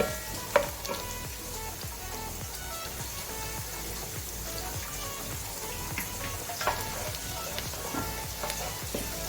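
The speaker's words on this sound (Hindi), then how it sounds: "प्याज को जो है मैं सुनहरा होने तक बना रही हूँ, पका रही हूँ।" Onions sizzle and fry steadily in hot oil in a pan, turning golden for chana pulao, a continuous close crackle with occasional stirring clinks.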